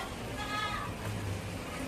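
A goat at a mini zoo gives a short, wavering bleat under a busy background of people talking nearby.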